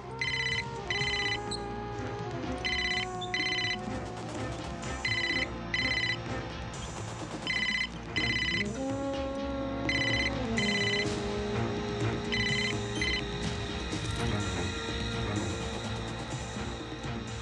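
Telephone ringing in a Hindi film scene, repeated bursts of electronic ringing in a regular pattern over a background music score, continuing through the passage.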